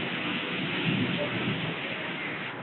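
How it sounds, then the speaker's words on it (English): Heavy rain pours steadily in Kolkata, a dense, even hiss of downpour close by that fills the whole moment without letting up, with a voice speaking over it. "It's heavy raining in Kolkata."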